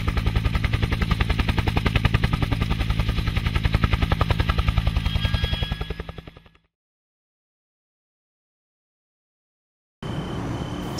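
A helicopter's rotor thumps steadily and loudly for several seconds, then fades and cuts to silence before the engine noise briefly returns.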